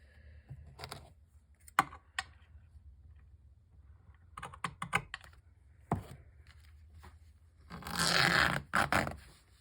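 Scissors cutting through coffee-stained paper, heard as scattered soft snips and scraping bursts at close range, fairly quiet, ending in a denser rustle of paper handling.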